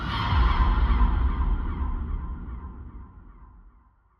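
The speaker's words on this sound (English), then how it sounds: "these squawking seagulls were in her head" Seagulls squawk in a loud, harsh, close burst of overlapping cries that swells in the first second and then slowly fades away over about four seconds.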